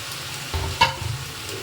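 Potato and fried pointed gourd stirred into spice paste in a pan, a couple of scraping spatula strokes over a low, steady sizzle, close and without talk.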